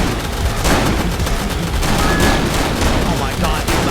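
Dense, continuous volleys of gunfire from sniper rifles in a video game, loud and overlapping across the whole stretch with no pauses and no talking.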